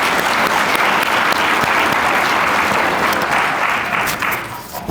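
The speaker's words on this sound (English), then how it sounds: "Big round of applause for you guys for being here today." An audience at a corporate annual partner meeting applauds, a loud, dense wash of clapping from many hands that continues steadily before tapering slightly at the end.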